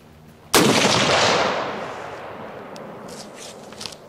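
A single loud, close shot from a Browning BAR MK3 DBM rifle cracks sharply, then its echo rolls away and fades over a few seconds outdoors.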